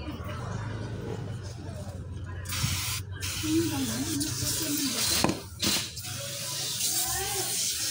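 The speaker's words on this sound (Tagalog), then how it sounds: "Spray natin ng brake cleaner." Brake cleaner hisses in short sprays onto the CVT transmission of a 2018 Honda City during a filter and fluid change, several close bursts with shop noise around them and people talking nearby.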